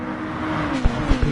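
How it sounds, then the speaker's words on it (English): Pagani race car in Gran Turismo Sport drifting through a left-hand corner at the Red Bull Ring, a steady loud engine drone with a few short thumps near the end, no speech. "Pagani's drifting through the left-hander there"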